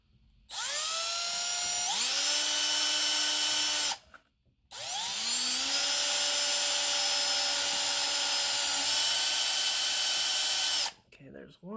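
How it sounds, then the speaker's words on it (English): A power drill whines loudly at a steady high pitch in two long runs, drilling holes in a 1976 C3 Corvette, a short pause between them, ending with a brief clatter. "let's get to drilling a couple of holes"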